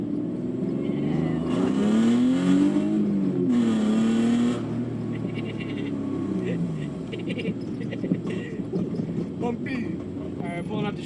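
A BMW E36 Compact drift car revs its engine, which rises and falls through a couple of loud pulls and then settles to a rougher idle and rolling rumble with small bumps, heard close from inside the car.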